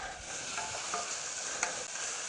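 Onions sizzle steadily in a hot pan, a continuous crackling hiss with occasional small pops and stirring scrapes, no voices.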